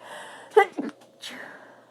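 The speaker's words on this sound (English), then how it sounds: "Ooh, I'm going to sneeze." A single quick sneeze, close and fairly soft, with a sharp burst followed by a short exhale.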